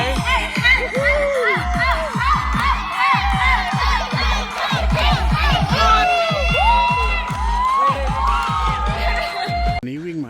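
Loud crowd of spectators along the Vientiane International Half Marathon route, cheering, whooping and shouting in repeated energetic bursts for about ten seconds, close by.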